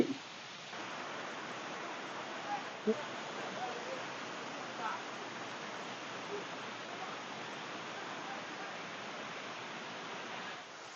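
A waterfall in Malaysia gives a steady, even rush of falling water at moderate distance, unbroken across the whole stretch, with a few faint clicks and no clear talk.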